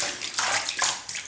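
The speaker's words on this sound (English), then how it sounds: "Grab yourself your razor and you fucking just dip it in the water." Razor dipped in warm water in a sink, close splashing and swishing water in a few quick bursts, with no talking.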